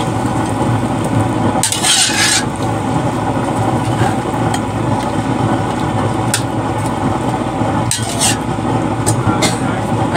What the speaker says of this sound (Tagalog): Haluin lang po muna natin.